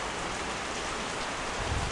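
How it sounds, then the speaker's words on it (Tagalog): Steady rain pattering on a surface, a dense continuous hiss with no voices, holding even throughout. "magdamag na umuulan po ngayon dito."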